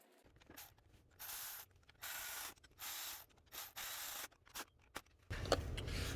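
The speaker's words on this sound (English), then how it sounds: "we're gonna go ahead and bolt down our throttle body" A ratchet wrench clicks in short, quick bursts while bolting down the throttle body on a 2000-2007 Chevy Silverado with a 5.3L or 4.8L V8, close and fairly quiet, with brief pauses between turns.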